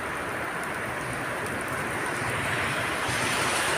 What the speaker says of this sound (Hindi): इस वक्त यहाँ पे फुल बारिश स्टार्ट है।